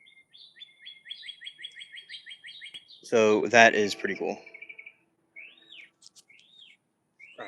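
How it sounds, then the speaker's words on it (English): Birds chirp in a garden, with quick rapid tweets and short whistled calls near and far, while a person speaks briefly midway through. "what we did see today is the birds chirping"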